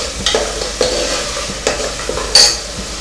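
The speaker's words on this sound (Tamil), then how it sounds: "வேக விட்டு அரைச்ச சின்ன வெங்காயம் நல்லா கொஞ்சம் செவக்க வேக விடணும்." Ground shallots fry in a pan for tomato rice, a steady close sizzle broken by four or five sharp metal scrapes of a spoon stirring at irregular intervals.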